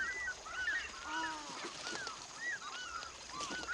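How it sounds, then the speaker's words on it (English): Tree ducks at a lagoon in Africa's Luangwa Valley give repeated high whistling calls, several birds overlapping at moderate distance over a soft outdoor background with no talking. "Tree ducks use the lagoon for a wash and brush up."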